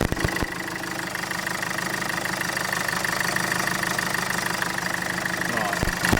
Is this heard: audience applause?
no